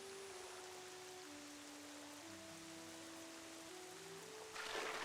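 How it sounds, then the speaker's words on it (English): Steady rainfall in Zelda: Twilight Princess HD, a soft even hiss of rain beneath quiet game music, growing briefly louder near the end. "It's kinda hard to find it now with all this rain."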